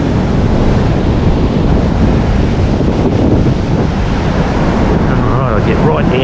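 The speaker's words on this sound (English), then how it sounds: "Look at some of these waves," Loud, roaring surf rumbles continuously, with heavy wind buffeting the microphone and waves crashing nearby.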